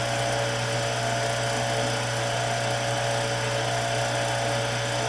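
Steady high-pitched whine of a drill bit cutting metal on a lathe, continuous and close, with a constant motor hum beneath.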